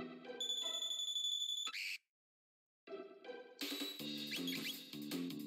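Chiptune-style electronic tones from the bell bird enemy in Chrono Trigger: bright, sustained, bell-like notes cut off by a brief silence, then a denser burst of ringing game sound, with no talking.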